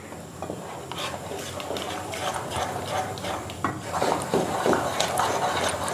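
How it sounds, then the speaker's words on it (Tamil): Kerala-style tender coconut halwa is stirred in a pan over high flame, a continuous soft scraping and slushing with occasional utensil knocks, fairly close. "ஸோ நல்லா கிளறி விடுங்க."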